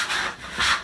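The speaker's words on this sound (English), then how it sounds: "Just grab a scraper. Scrape it all up." A scraper rasps across sweet pastry dough in two short strokes, close and fairly soft.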